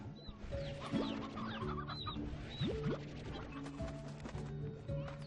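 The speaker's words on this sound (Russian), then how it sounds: "Ух ты, сколько тут курей." A flock of chickens clucks continuously in the video game Slime Rancher, with overlapping busy calls and scattered bright squawks against a dense game soundscape, fairly quiet overall.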